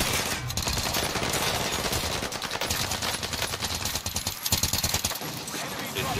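Continuous rapid automatic gunfire from a shooter video game fills the scene, loud and dense, with brief bursts layered over one another while players talk over it.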